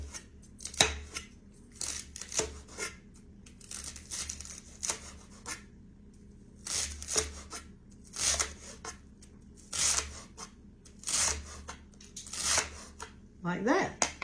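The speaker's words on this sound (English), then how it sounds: "hold it tight with my hand and cut little bitty pieces" Knife chopping celery into small pieces on a cutting board, bursts of quick crisp chops and crunches with short pauses between, close up and clear, while a person talks between the bursts.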